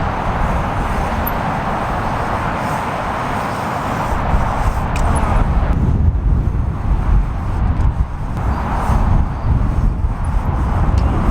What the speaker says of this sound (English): it was just so windy